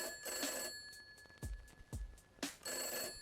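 A telephone rings in a noir-style detective video game, with several short bursts of ringing set apart by pauses over a steady electronic background hum.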